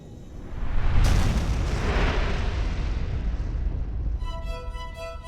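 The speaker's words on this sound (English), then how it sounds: "what we today call a Big Bang" A huge explosion sound effect depicting the Big Bang: a sudden deep boom swells into a heavy, roaring rumble that slowly fades, giving way to shimmering ringing tones at the very end.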